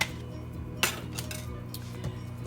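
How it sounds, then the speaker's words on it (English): A knife slices the end off a carrot on a cutting board: a sharp crisp chop, followed by a few lighter taps and clinks against a quiet kitchen background. "I'm actually going to cut the end off the carrot, just a little bit here"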